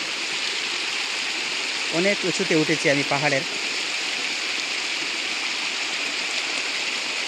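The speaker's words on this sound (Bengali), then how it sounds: "বৃষ্টি বন্ধ হলেও এই ঝর্ণাগুলো হুট করে বন্ধ হয় না, অনেক দিন যাবত প্রবাহিত হতে থাকে এই ঝর্ণাগুলো।" A mountain waterfall, still running after rain has stopped, gives a steady, full rushing wash of water throughout, while a person speaks briefly in the middle.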